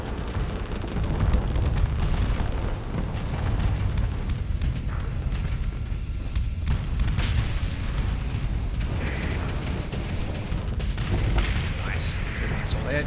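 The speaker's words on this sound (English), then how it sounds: "Good missile hit." A missile striking a ship in the space combat game Starsector, heavy rumbling explosions rolling continuously with booming impacts, under intermittent talking.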